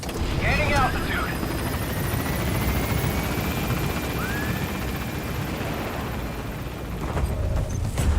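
An extraction helicopter lifts off in Metal Gear Solid V: The Phantom Pain, its rotor thumping steadily throughout while a radio voice speaks briefly near the start and a few short electronic tones sound over the top.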